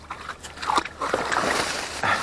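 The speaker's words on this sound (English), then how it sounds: "Goofy dog." A dog named Trigger splashing about in water outdoors, with sloshing and slapping water noise rising and falling over a couple of seconds, close by.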